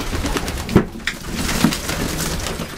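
Young racing pigeons coo softly, with two low throaty coos close by over a busy background of shuffling and rustling.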